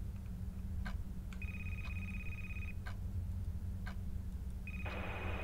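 Telephone ringing inside a horror video game, heard as two bursts of steady electronic ring, the second starting near the end, over a constant low hum and a few soft clicks.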